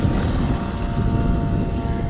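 An RC helicopter flying an autorotation gives off a steady, loud rotor and airframe drone that holds evenly throughout, with no talking.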